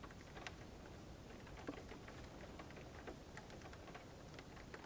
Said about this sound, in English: It is raining in the game, yeah.